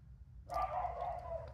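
A single dog bark or short howling yelp rises abruptly and trails off, moderately faint, over a low background hum.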